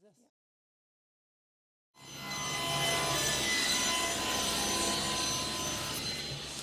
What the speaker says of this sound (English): Step 1, we need to cut a bunch of strips.